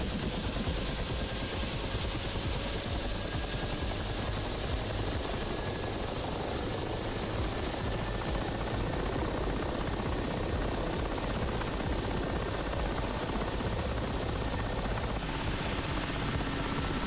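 In DCS World, a jet's aircraft engine spools up after throttle-up, a dense, steady turbine roar with a high whine running continuously at loud level.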